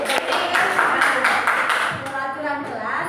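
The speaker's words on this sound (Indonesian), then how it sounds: "Oke, tepuk tangan ke Mas Andi." A classroom of students claps for a classmate named Andi, giving a burst of close, brisk hand claps that fades as a voice starts talking toward the end.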